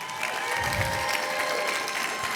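An audience at a startup demo day event applauds, a steady, even wash of many hands clapping at moderate volume throughout, with no pause or swell.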